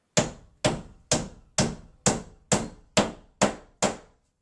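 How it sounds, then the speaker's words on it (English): A hammer drives nails into wall studs during a bathroom remodel, nine sharp, evenly spaced blows ringing out close and loud with short decays and silence between them. "Now I'm going to add as many nails as possible in these studs"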